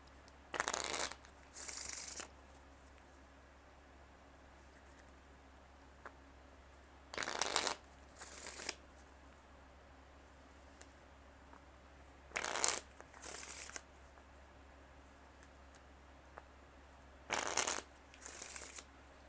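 Tarot cards being shuffled in repeated bursts, each a brisk riffling flutter lasting about a second, spaced several seconds apart over a quiet background hum, close and clear with no talking.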